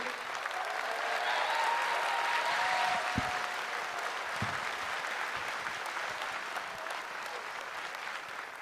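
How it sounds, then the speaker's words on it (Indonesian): A studio audience applauds for Eja Saputra at a talk show taping, a steady wash of clapping with a few sharp isolated claps standing out, fairly close and moderately loud without speech. "Tepuk tangan untuk Eja Saputra,"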